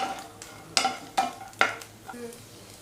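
Grated coconut roasting in oil in a pan, with a spoon scraping and stirring in several sharp strokes over a soft, steady sizzle, close up.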